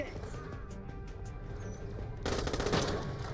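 The Fatale gun firing in Borderlands The Pre-Sequel, a rapid, dense rattle of shots that builds and grows louder in the second half, with someone talking over the gameplay.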